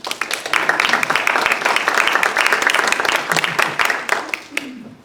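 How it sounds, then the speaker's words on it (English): Audience applause at a community plan update meeting, a dense burst of clapping that holds steady for several seconds before tapering off, with a voice speaking under it near the end. "I didn't know that was an applause line, but thank you"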